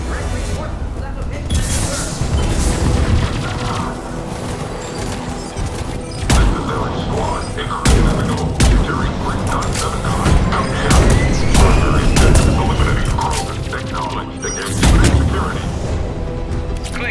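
Sustained battle in the sci-fi shooter Mass Effect 3 against Cerberus forces on the Sur'Kesh mission: dense, overlapping enemy gunfire with heavy booming explosions around the middle and near the end, a voice and a music-like bed underneath.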